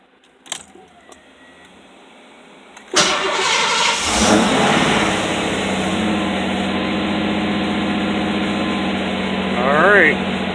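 A Fox-body Ford Mustang with a Walbro 255 fuel pump and speed-density setup cranks briefly, fires up and settles into a loud, steady engine run that is revved up toward the end, following a few clicks and a key jangle.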